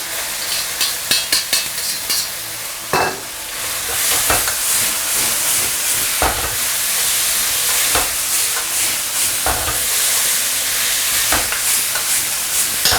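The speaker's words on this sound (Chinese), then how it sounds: "好，开最大的火给它翻炒均匀" Shredded potatoes stir-fried over maximum heat in a wok with ginger, garlic and shallots: a loud, steady sizzle with repeated scraping and tossing strokes of the spatula, close up, no talking.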